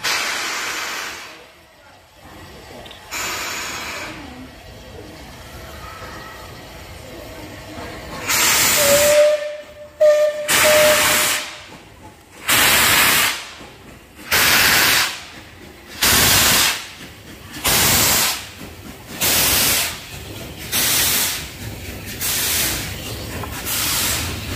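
A steam train departing Hellifield station on the Settle and Carlisle line, with loud steam hissing, a short whistle, then a regular series of strong chuffing exhaust beats as it pulls away, close by.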